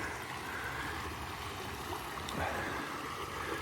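Water from a stream at the Mission Del Lago trailhead runs with a steady, even rush that holds constant throughout, soft but continuous, with no voices over it.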